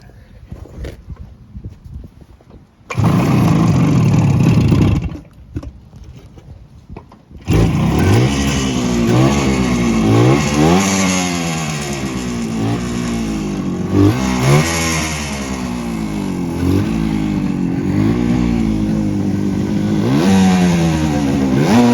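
A 1970 Suzuki T350 Rebel motorcycle with 6,400 miles, which will not hold a steady idle and over-revs, starts after a couple of short bursts, then runs loud and close with repeated rising and falling revs.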